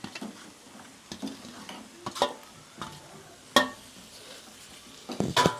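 A spatula scrapes and clinks against a pan as paneer and capsicum fry in masala, giving scattered stirring knocks over a soft, steady sizzle, fairly quiet and close, with no voices.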